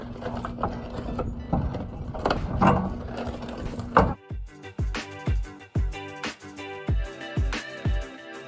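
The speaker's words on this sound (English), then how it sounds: "We'll go ahead and put these wheels on." Wheels go onto a lifted Tahoe with a mechanical clatter, then a string of sharp, evenly spaced ratcheting or impact bursts rings out close and loud, with no talk.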